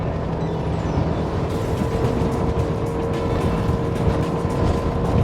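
Jeanneau Cap Camarat 5.5 CC center-console motorboat running at around 16 knots, with a constant loud outboard engine drone mixed with wind and water rush, steady throughout and no talking.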